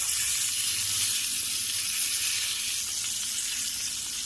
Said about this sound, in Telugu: కరివేపాకు వేసుకుంటున్నాము.